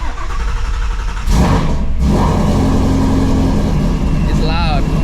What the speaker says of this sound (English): this is gonna be quite possibly the last cold start with the Ford Performance X pipe and the Ford X Borla exhaust